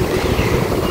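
Brief burst of outdoor wind buffeting the microphone, a loud steady rushing roar with no voices.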